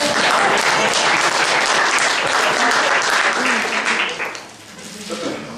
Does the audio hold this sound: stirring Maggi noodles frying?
no